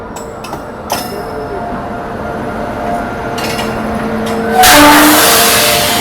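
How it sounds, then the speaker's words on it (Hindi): A train pulls into Ghaziabad station on an Indian Railways line, with a steady rumble of rolling stock and faint wheel and brake squeals, swelling louder near the end. "यहाँ पर भी गाजियाबाद में कोई तो ट्रेन अराइवल ले रही है"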